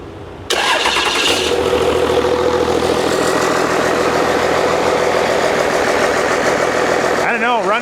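A 12-volt Cummins diesel engine cranks briefly on its starter, then catches and settles into a loud, steady, rough idle that carries on to the end, with a voice coming in near the close.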